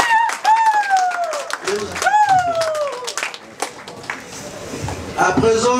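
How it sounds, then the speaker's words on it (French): A crowd at a marriage ceremony claps in scattered, uneven bursts while raised voices cry out and call over it, the clapping thinning and then picking up again. "Applaudissez pour le professeur"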